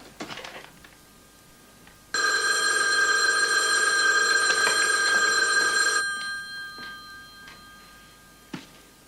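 A scrambler telephone bell rings loudly and steadily for about four seconds, then stops, leaving a quiet room with a faint click near the end.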